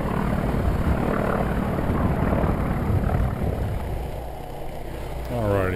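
A Grumman FM-2 Wildcat propeller aircraft drones loudly and steadily in flight, heard from the cockpit with a constant engine and propeller roar, ending in a rising pitch as power changes.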